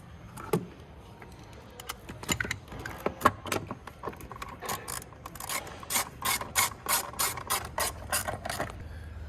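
A ratchet wrench tightening a 10mm bolt to mount a Unichip on a 300 Series Landcruiser, rapid clicking bursts of the pawl, close and clear, speeding up toward the end with no speech.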